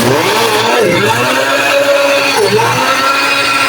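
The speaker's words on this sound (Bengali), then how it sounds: "এখন সবগুলি উপকরণ আমি আবার ভালো করে ব্লেন্ড করব" An electric blender runs continuously, grinding cooked rice with flour, a little oil and other ingredients for a rice pitha batter; a loud, steady motor whir fills the whole stretch without a break.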